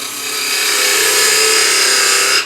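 A high-speed steel parting tool cuts into wood spinning on a lathe, a steady, close, bright scraping hiss that holds evenly for a couple of seconds and then stops abruptly.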